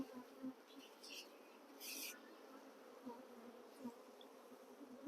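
A constant low hum of many bees buzzing close up inside a hive box, faint and enclosed, with occasional louder wingbeat swells from nearby insects.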